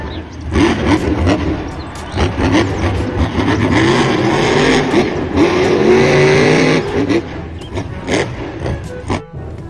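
A toy monster truck's engine revving and roaring in bursts, fairly close and loud with rising and falling pitch, dropping away toward the end.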